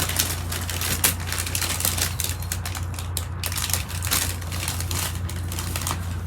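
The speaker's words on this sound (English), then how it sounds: "I'm going to go ahead and cut open this bag of sweet potatoes." Crinkly rustling and crunching of a plastic bag of sweet potatoes being cut open and handled, close and continuous over a steady low hum.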